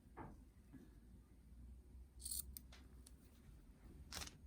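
Scissors cut fabric strips for a surgical mask. Several quiet snips come in short bursts, close and faint, with pauses between them.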